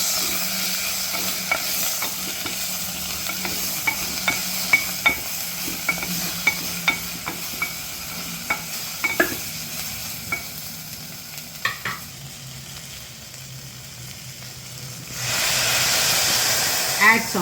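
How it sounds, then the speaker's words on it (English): Brinjal sautéing in a pan with turmeric and asafoetida for rasam, a steady sizzle and hiss with regular scraping stirs of a spoon, ending in a louder burst of steam; a voice is faintly present. "I saute this ."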